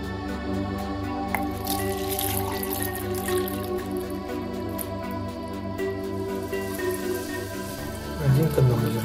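Water pours and trickles into an alabaster plaster mix being prepared for an ant farm incubator stand. There is a steady, close liquid sound with soft drips and a brief splashy swell near the end.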